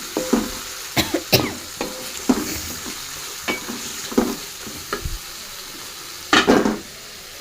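Cauliflower florets frying in oil with a little salt, giving a steady sizzle broken by scattered clinks and scraping stirs, with a louder burst of crackle near the end; no talk.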